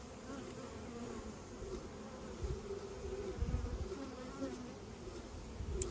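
A swarm of honeybees drones steadily nearby, a soft continuous low buzz that swells slightly in the middle, with no talking.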